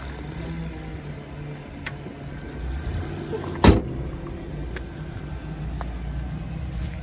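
A single solid thump near the middle as the hood of a 2013 Toyota Prius v hybrid, fitted with a clear bra, is shut, set against a steady low outdoor rumble.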